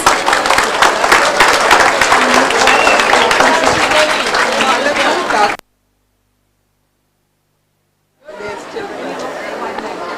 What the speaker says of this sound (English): I can't hear the claps.